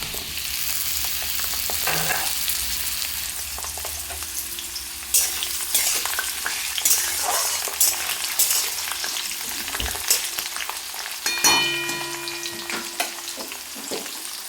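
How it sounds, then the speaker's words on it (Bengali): Potato and chopped pumpkin fry in a hot pan for a vegetarian curry, giving a steady close sizzle broken by scraping and clattering stirring strokes. "কিছুক্ষণ আলুটা ভেজে নেবার পরে আমি এতে দিয়ে দিচ্ছি কেটে রাখা কুমড়া"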